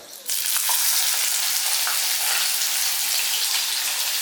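Finely chopped onion fries in a pan with a loud, steady hiss of hot oil that starts abruptly and keeps going, heard close up with no talking.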